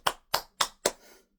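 Four crisp hand claps from a single person, evenly spaced and close, with a faint trailing rustle after the last one.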